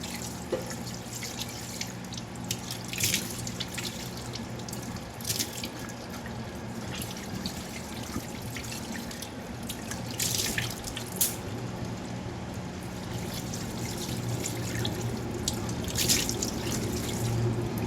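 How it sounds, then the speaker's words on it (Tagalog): Running tap water while a face is rinsed at a sink, a steady close splash and trickle with intermittent louder splashes as water is scooped and thrown, no talking. "Banlawang ko na to."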